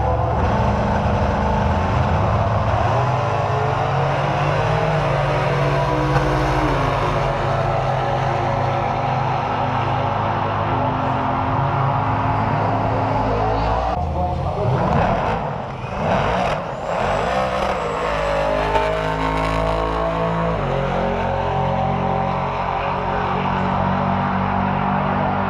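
Drag racing cars roar down the strip at Santa Pod Raceway's Doorslammers event during the bracket final, a loud, continuous engine drone with shifting pitch and a rough burst midway, no talk.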